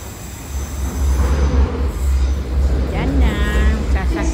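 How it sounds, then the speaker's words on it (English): A train rumbles into a London Victoria station platform with low, steady wheel roar and a rising metallic squeal near the end, echoing under the station roof. "the train now approaching"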